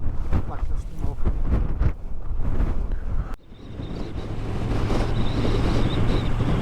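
Strong wind buffets the microphone continuously on an exposed Lancashire coast, a loud rough rumble that briefly drops and then builds again.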